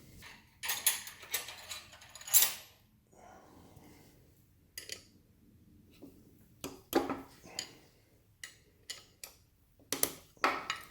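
A ratchet works on the connecting rod bolts of a mini trike engine, giving sharp, scattered clicks and mechanical clatter at close range, faint in between, with short gaps as the bolts are broken loose.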